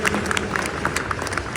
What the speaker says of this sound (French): On peut l'applaudir très très fort.